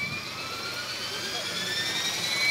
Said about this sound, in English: Midland Helicopters flying the Logo Xtreme.